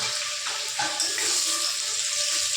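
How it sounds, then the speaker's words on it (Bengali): Cauliflower florets frying in oil in a pan, a steady close hiss and crackle that runs continuously with light stirring knocks. "এদিকে ফুলকপিগুলো কি সুন্দর লাল লাল করে ভাজা হচ্ছে"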